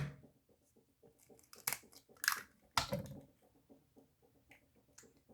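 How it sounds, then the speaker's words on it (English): An egg cracked against a shaker tin while eggnog is being made: a few sharp, close cracks and taps in quick succession over soft clinking and handling noise. "Crack egg."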